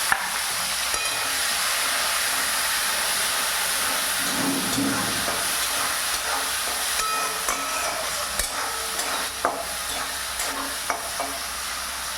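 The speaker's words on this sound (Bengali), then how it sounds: "জিরেটা একটু ভাজা হলে এর মধ্যে ফেলে দেব পেঁয়াজ, টমেটো আর কাঁচা লঙ্কা" Onion, tomato and green chili fry with cumin in a pan for a Bengali muri ghonto, giving a steady close hiss and sizzle with occasional stirring clinks and scrapes; nobody speaks.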